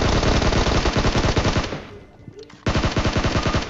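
Rapid bursts of automatic gunfire from the video game PUBG, loud and continuous, with a brief lull in the middle before firing resumes.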